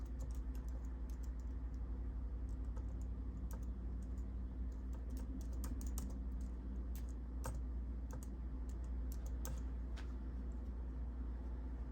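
Steady typing on a 2003 Power Mac G5 keyboard, a close run of quick key clicks over a constant low hum, with no talking.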